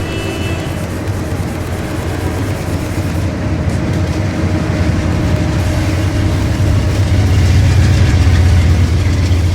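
A video game train departs, rumbling steadily with a deep engine drone and rail noise, growing slightly louder toward the end; no voices.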